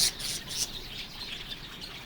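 Java sparrows in a breeding colony give a few faint, high chirps over a steady background hiss, the calls brief and somewhat distant.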